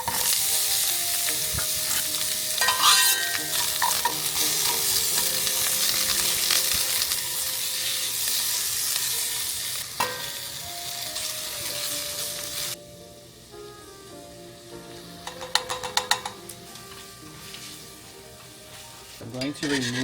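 A mixture with onions frying on the stove and being stirred, a dense loud sizzle with scraping strokes that drops to a quieter crackle partway through, with a few louder clatters near the end.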